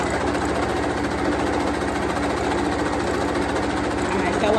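A sewing machine runs continuously and loudly, a dense rapid stitching drone as ribbon ruffle is sewn onto a newborn sock, with talking over it.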